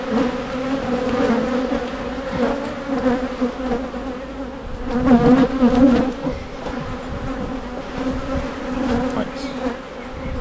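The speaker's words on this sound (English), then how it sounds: "There are quite a lot of bees in here as well." A dense, steady buzzing of many honey bees in an open hive full of honey fills the scene up close, with a single brief spoken word partway through.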